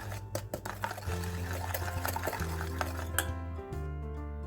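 A spoon scrapes and clinks against a bowl as melted butter is stirred into an oatmeal cookie mixture, steady and close, with music playing underneath.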